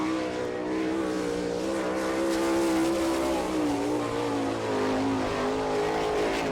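The number 5 sprint car of Byron Reed from Monclova runs a qualifying lap at Attica in the All Star Circuit of Champions, its engine roaring and shifting pitch continuously at a distance for several seconds.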